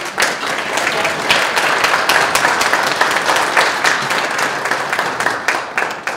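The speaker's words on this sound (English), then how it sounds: "Will you clap for her?" Guests at a volunteer gala applaud an honoree called to the front, a lively round of clapping with sharp individual claps standing out over the steady crowd sound, no speech.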